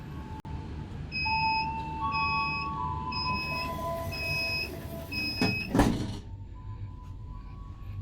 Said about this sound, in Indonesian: Pintu kanan akan otomatis ditutup.